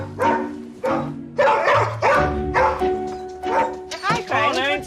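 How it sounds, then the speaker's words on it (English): A Border Collie barks insistently indoors, a run of about eight loud, close barks in a steady rhythm, the last ones turning into higher yelping whines. "God, that's some barking you've got going on there."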